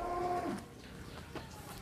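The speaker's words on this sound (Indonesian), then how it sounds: "sapi monster terlucu di kandang pedalaman" Cattle lowing in a rural pen at a cattle contest, a single fairly close moo with a tonal rise in the first half second, then fading into quiet barn ambience.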